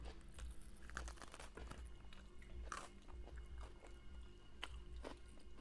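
Close, crunchy chewing of a vegan bean taco with mushrooms and red bell pepper, irregular bites and crackles over a low background rumble, no voices.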